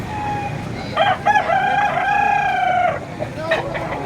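A fighting cock crows loudly at a gamecock market in Padre Garcia, one drawn-out crow near the microphone amid background chatter and market noise.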